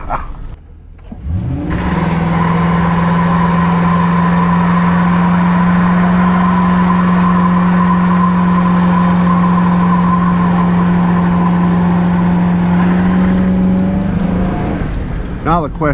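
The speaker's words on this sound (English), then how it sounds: "Now the question is that a one-wheel peel" A car doing a one-wheel peel squeals one tire in a long, loud, sustained screech of about twelve seconds over engine roar, rising in and fading out at the ends.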